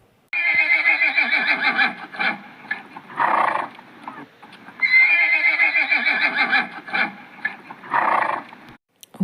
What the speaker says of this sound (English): Here comes horse. Horse runs fast.